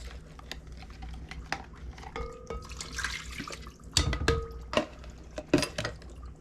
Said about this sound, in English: now what we're going to do is we are going to add our yeast mixture